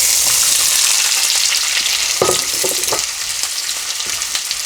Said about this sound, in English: And now I'm going to add my onions, and we're going to fry them for about 4 to 5 minutes until they're lightly golden brown in colour.